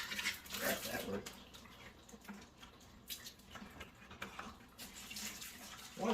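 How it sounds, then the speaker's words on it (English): Water runs from a tap into a bucket being rinsed in a basement, a steady splashing hiss that swells and fades, close, with brief speech-like sounds mixed in. "Try to rinse this bucket out a little bit."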